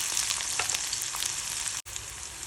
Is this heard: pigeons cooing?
no